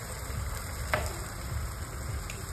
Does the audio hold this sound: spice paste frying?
yes